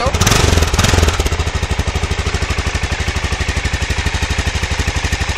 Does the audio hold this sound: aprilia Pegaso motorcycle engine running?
yes